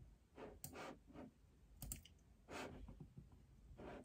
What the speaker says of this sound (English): You might hear a few clicks, and that's just literally just me clicking my mouse.